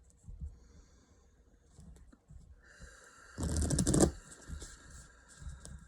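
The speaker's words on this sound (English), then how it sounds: "So I already cleansed the deck. I'm just going to shuffle them" A deck of oracle cards is shuffled by hand in a quiet room, with a short, faint riffle and rustle that builds to one denser burst of papery clatter lasting about a second.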